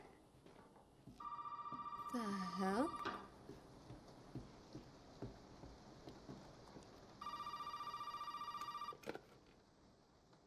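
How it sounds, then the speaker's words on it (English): A telephone rings in the Resident Evil Biohazard video game, with two long electronic ringing bursts separated by a pause, heard over steady rain. Someone talks and mutters in between. "Why is the phone ringing now?"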